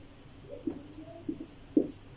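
Chalk or marker scratches on a classroom board in short strokes, a few soft taps and scrapes spaced through the quiet, close and faint.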